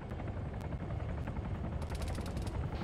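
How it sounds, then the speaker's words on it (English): Helicopter rotor thrum in the military video game Arma 3, a dense continuous low chopping roar with faint distant gunfire pops scattered through it, no voices. "Do we have three helicopters in the air?"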